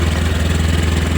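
A Honda Scoopy scooter engine idles steadily up close, a low rhythmic putter that holds even throughout with no pauses.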